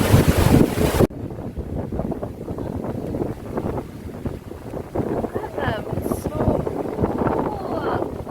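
A breeze buffets the microphone in heavy, rumbling gusts, loudest in a burst at the start and then continuing as uneven low wind noise, with faint voices and outdoor background underneath.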